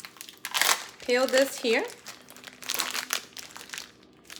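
Plastic packaging crinkles and crackles as it is peeled off sausages in a kitchen, a few bursts of rustling mixed in with a person talking nearby.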